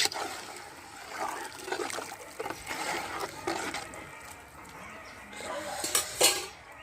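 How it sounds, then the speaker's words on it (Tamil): Metal utensils clink and scrape against a pot with a few wet splashes, a steady stirring of coconut milk rice with coriander and mint close by, louder near the end. "இப்போ ஒரு கிளறி விட்டுக்குவோம்."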